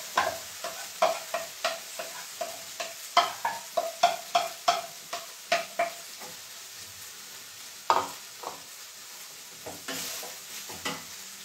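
Boiled rice tipped into a hot pan and stirred, a close run of repeated scraping, tossing strokes in an uneven rhythm over a faint sizzle, with no voices.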